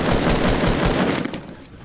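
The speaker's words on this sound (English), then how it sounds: "somebody's shooting at them" Rapid automatic gunfire in a squad battle-royale video game, loud and dense bursts of shots that fill the clip and fade slightly toward the end.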